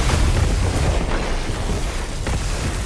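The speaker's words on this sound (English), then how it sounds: "Threw that nade out." A grenade blast in the Destiny 2 game: a loud, dense rumbling boom of roughly three seconds that fills the whole clip, close and heavy, with no speech over it.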